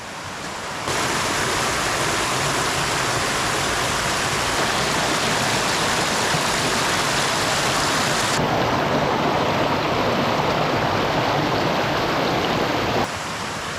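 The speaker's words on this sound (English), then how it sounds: "sound of the lovely little stream coming through" Steady rushing water pours and splashes continuously over rocky shelves, a broad close-up roar of a small stream with no voices.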